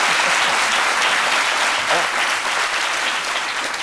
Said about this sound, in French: ça mérite applaudissement.